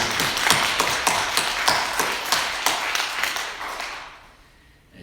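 Congregation claps at a Christmas church service, the sharp rhythmic claps ringing loud and close before fading out near the end.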